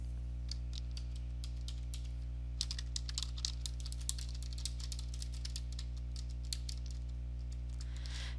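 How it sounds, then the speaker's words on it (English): Clicks of typing on a computer keyboard tap out in quick irregular bursts against a steady low electrical hum, with no talking. "Next, you will type in the primary mailing address."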